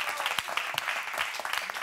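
A television studio audience on a music show applauds a performer, brief busy clapping with scattered sharper hand strikes standing out.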